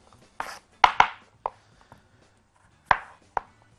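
A knife chops raw chicken on a cutting board in a kitchen, landing as sharp, close thuds in two short bursts: four quick strikes, then a pause and two more, in a quiet room.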